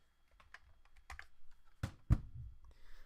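Computer keyboard keys are typed in a sparse, irregular run of close clicks, with two louder, heavier key strikes near the end.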